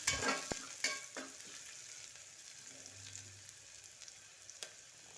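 Chopped onion frying in oil in a pan for a chicken liver masala, with soft sizzling and occasional stirring scrapes, a few sharper clinks early on, close by and with no talk.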